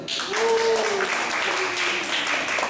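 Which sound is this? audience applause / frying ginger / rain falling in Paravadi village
audience applause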